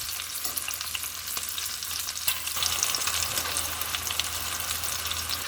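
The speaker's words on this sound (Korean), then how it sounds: "이렇게 고추가 있는 쪽으로도 한번 뒤집어서 익혀주세요." Korean meat patties (donggeurangttaeng) coated in egg sizzle steadily in a frying pan, a bright continuous crackle with scattered pops and no talking.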